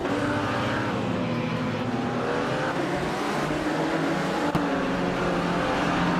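A 1957 Ferrari 250 Testa Rossa races in a video game, its engine a loud, steady, close droning roar that holds an even pitch throughout, with a brief click near the end.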